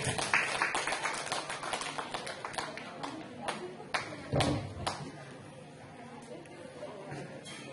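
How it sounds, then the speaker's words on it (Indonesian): An audience at a village anniversary event claps as the PKK speaker from Dusun Kubang goes up on stage, a brisk flurry of close, sharp claps that tapers off into scattered hits and a few thuds. "Tepuk tangan yang meriah"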